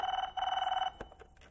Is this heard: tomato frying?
no